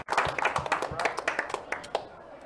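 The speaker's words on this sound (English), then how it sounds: "Please give a round of applause to Chuck Kelly." At a poker final table of a $1,200 No-Limit Hold'em tournament, an audience gives a short, close round of applause, distinct individual claps that thin out after about two seconds, with some speech mixed in.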